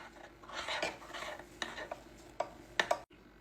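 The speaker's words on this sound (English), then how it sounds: "I'm gonna turn the stove off and slowly add in a little bit of cheese at a time." Cheese being stirred into a hot butter, flour and milk sauce on a switched-off stove, soft wet scraping and rubbing of a spoon in the pot, with a few sharper taps against the rim, close and quiet.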